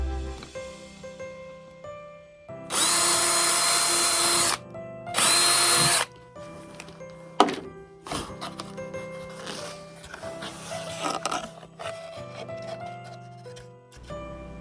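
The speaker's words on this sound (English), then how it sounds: "I'm using a 1/16 inch drill bit for the windows." A small power drill with a 1/16 inch bit whirs in two short bursts drilling window holes in a CNC-cut piece, with clicks, taps and handling noises in the quiet gaps around them.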